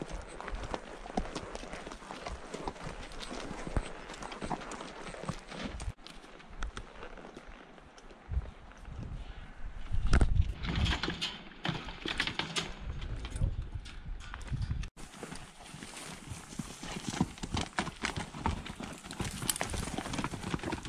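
Hooves clip-clop steadily on the ground as horses and a mule move along nearby, with rustling and wind noise and a few louder bumps mixed in.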